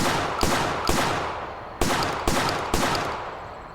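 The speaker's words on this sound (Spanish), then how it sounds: "Puse mi arma en modo semiautomático y empecé a disparar." Five sharp, loud semiautomatic gunshots fire one at a time at irregular intervals, each followed by a decaying echo off walls, with no talking.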